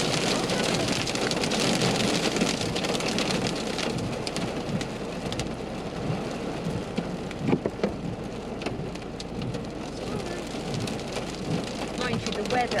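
Heavy rain pours down steadily during a storm, with rumbling thunder mixed into the dense hiss of falling water.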